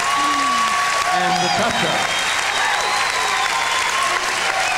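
A crowd applauds steadily and loudly throughout at a 1997 international cha-cha dance competition, with Bob Powers & Julia Gorchakova against Bryan Watson & Karen Hardy, while a commentator talks over the clapping.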